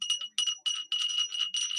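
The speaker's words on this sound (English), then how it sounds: "This is a House of Lloyd angel bell." A House of Lloyd angel bell with a crystal ball clapper rings in quick, repeated shakes, giving a bright, sustained jingling with short gaps between bursts.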